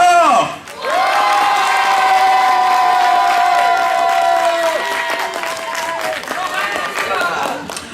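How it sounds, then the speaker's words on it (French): A convention audience at Wazabi 2012 cheers and shouts loudly with clapping mixed in, sustained vocal whoops and yells forming a dense, loud crowd roar after a brief dip. "applaudissez très fort"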